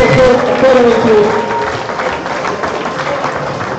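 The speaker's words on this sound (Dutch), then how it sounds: "Geef ze nogmaals een groot applaus. De dames van het AKG Academy Team." An audience applauds the ladies of the AKG Academy Team at an Eredivisie darts evening: a steady wash of clapping from a crowd, loudest at the start and then settling to an even level.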